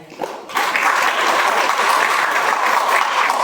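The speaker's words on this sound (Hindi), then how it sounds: "उसके लिए एक बार अपने खुद के लिए तालियां बजाएं।" NCC cadets at a college parade event break into applause, a short lead-in then a loud, sustained wash of many hands clapping together, close and continuous to the end.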